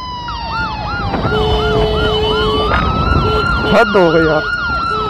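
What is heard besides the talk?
ambulance siren stuck in traffic jam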